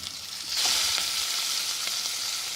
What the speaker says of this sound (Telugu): ఇప్పుడు ఆనియన్స్ ట్రాన్స్పరెంట్ అయ్యేదాకా కాసేపు కలుపుకుందాం.